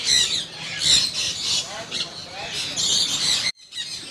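Exotic birds squawk and chirp in a bird market shop, harsh repeated calls overlapping continuously at close range, with a brief pause near the end.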